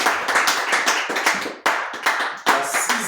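A church congregation claps loudly in praise, a dense burst of many hands with a few sharper strong claps standing out in quick uneven rhythm, no voices over it.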